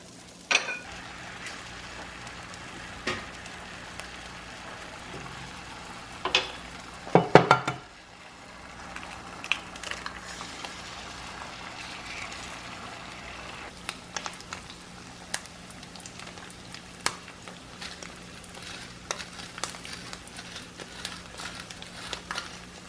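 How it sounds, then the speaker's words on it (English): Butter frying in a pan before eggs go in, a soft sizzle and crackle with scattered pops and a few clanks of the pan, fairly quiet and close throughout. "I like how my eggs fry with butter, so I'm putting a little butter in there"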